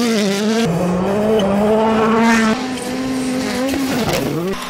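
A WRC rally car on the Rally de España course, mixed asphalt and gravel, roars loudly and close with a sustained engine note that drops and rises through gear changes, with tire noise toward the end.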